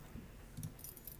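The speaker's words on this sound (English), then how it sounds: "Keys." Keys jangle faintly in a horror video game, with a few soft metallic clinks and rattles in a quiet room.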